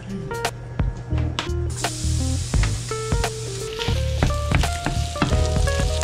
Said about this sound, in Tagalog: Magluluto ako ngayon ng garlic rice.